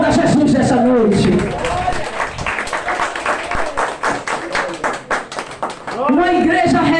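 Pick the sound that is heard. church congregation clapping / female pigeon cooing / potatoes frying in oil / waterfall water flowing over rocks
church congregation clapping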